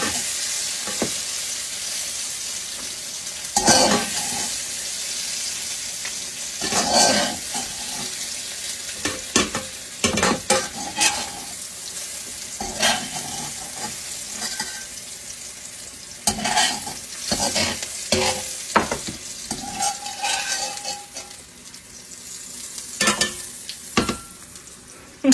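Sautéed zucchini, mushroom and onion being scooped out of a pan into a bowl: repeated scraping and clattering utensil strokes in irregular bursts over a soft background sizzle, no voices.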